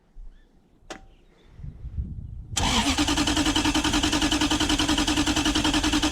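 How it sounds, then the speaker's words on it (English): A Triumph TR7 race car fitted with a 1UZ-FE V8 on a trailer is cranked over with the ignition switch off. A brief click and some rustling lead into loud, steady, rhythmic cranking pulses that continue to the end. "So that was cranking it over without the ignition switch on."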